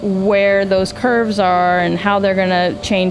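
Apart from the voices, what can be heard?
None of the usual background noises is heard.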